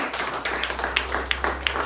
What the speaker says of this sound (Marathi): आणि जोरदार पहिले आपले डॉक्टर प्रेम सरांसाठी जोरदार टाळी होऊ द्या.